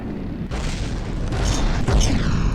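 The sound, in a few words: bombs exploding in the video game From the Depths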